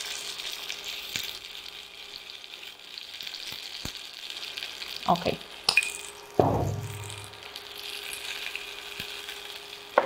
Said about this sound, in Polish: W międzyczasie tutaj będą się smażyły burgery z zielonego groszku.